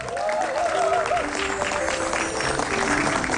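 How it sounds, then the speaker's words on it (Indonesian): A studio audience at an Indonesian comedy talk show claps in a steady, dense burst of applause with crowd murmur and faint whistles throughout. "Boleh beri tepuk tangan untuk saya?"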